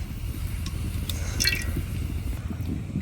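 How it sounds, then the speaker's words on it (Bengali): Cooking oil poured into a hot wok in a rural Bangladeshi kitchen while making fried rice from leftover rice, a steady, moderate liquid pour with faint drips and splashes. "দিয়ে দিতেছি কড়াইয়ে তেল"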